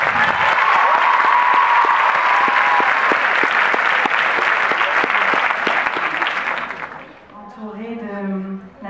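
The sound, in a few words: audience applause for Nathalie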